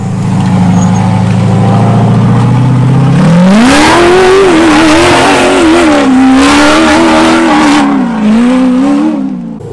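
An off-road vehicle in four-wheel drive climbs a rock face. Its engine rumbles low, then revs up loudly and holds a strained, wavering roar close by, easing off slightly at the end.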